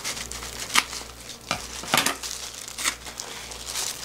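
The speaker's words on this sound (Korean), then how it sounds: "종이컵을 뜯어내면은 이렇게" A paper cup is torn and peeled away from a steamed makgeolli-fermented rice cake (jeungpyeon), giving close, crisp crinkling and ripping bursts in short irregular pulls, with no talk over them.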